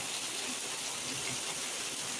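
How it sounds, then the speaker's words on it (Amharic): Rain falling outdoors in Ethiopia, a soft even hiss of drops that stays steady and fairly faint throughout, with no voices. "እና የሀገራችን ዝናብ"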